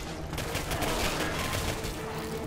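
Sustained automatic gunfire from the shooter game Singularity, a dense continuous burst of rapid shots filling the whole stretch at close range, loud and steady with no voices.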